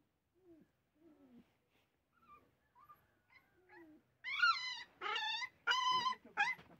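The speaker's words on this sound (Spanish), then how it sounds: "Pues la perra se sigue quejando de vuelta." A female dog whimpers in soft, thin whines, faint and spaced at first, then louder, longer whining cries in a quick series near the end.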